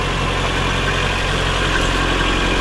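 A 1982 Nissan 720 King Cab pickup engine runs steadily at a close, loud idle, with a constant even drone and no voices.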